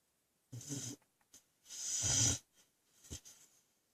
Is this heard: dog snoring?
yes